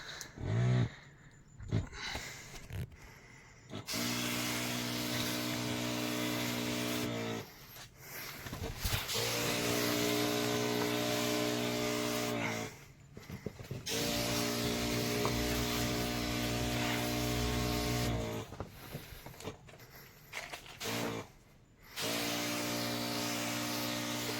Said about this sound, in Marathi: चालू करूया आपण स्प्रे मारायला